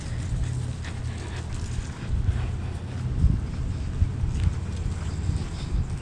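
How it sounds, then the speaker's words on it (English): Gusty morning wind buffeting close to the microphone at the Amtrak station in Rocky Mount, North Carolina, a constant low rumble that swells and dips, with faint intermittent thumps underneath. "It's so windy."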